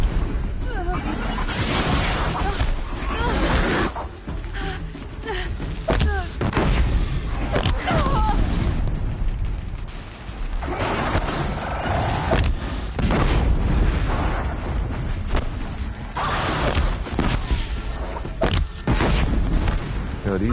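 Grenade explosions in Horizon Zero Dawn, a run of loud, dense booms and crashes filling the whole stretch with little pause between blasts.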